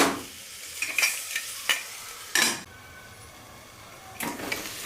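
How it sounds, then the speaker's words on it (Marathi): Vegetables including cauliflower steaming under a lid in a pan for Maharashtrian masala bhat, with a few bursts of sizzling and stirring scrapes between quieter stretches of soft hiss. "त्याच्यानंतर आपण आपल्या भाज्या वाफवून घेणार आहोत 5 मिनिटं"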